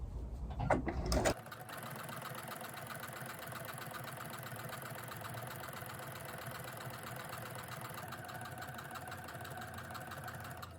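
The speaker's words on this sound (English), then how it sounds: "So let's stitch those together as well." Sewing machine running steadily while stitching rag quilt cushion pieces, a continuous close mechanical whir that starts after a brief rustle and holds evenly for about nine seconds.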